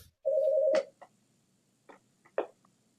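A phone gives a single steady electronic alert tone lasting about half a second, followed by a few soft clicks and taps as it is handled and silenced. The room is otherwise quiet.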